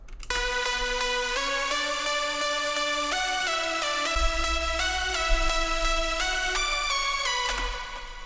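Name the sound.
synth lead without sidechain compression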